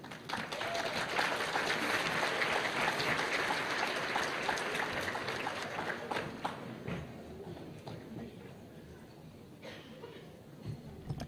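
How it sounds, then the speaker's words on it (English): Applause for the secretary at the 2023 Delaware Teacher of the Year event, a dense wash of many hands clapping that holds strong, then gradually thins and fades toward the end. "Nice round of applause for our secretary."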